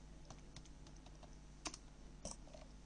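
Quiet keystrokes on a computer keyboard while a router's clock rate setting is entered, a sparse irregular patter of soft clicks with a couple of slightly louder taps over steady background hiss.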